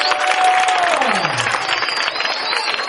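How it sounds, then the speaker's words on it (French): Audience at a community gathering in Treichville claps steadily and loudly, a dense continuous patter of applause from a close crowd with a whistle-like tone gliding through it. "On applaudit plus fort que ça."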